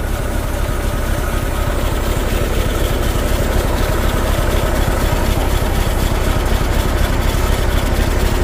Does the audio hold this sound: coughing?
no